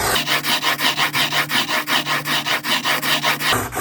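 A fixed-blade broadhead held in a jig is drawn across a finer-grit sharpening surface in steady, evenly spaced rasping strokes, about fourteen passes, close and loud with no talking.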